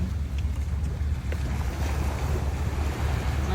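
Rough surf rolls onto a beach at a Singapore resort, a continuous low wash of waves mixed with heavy wind buffeting the microphone, loud and close with no voices.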